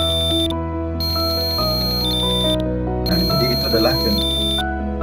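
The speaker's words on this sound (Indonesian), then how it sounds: "maka menghasilkan nada seperti ini. Ada dua nada yang berbeda ya, dari frekuensi yang berbeda." A buzzer driven by a microcontroller sounds steady electronic tones, switching between two different pitches in sustained held segments with short gaps, loud and continuous, while a voice talks over it.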